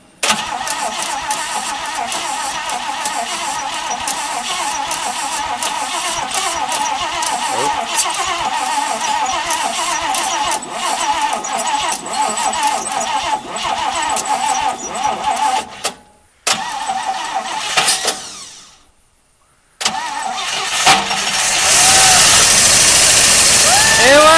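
A 1955 Pontiac Chieftain engine cranks, catches and runs at a rough idle, loud and close, with brief dropouts and people talking over it.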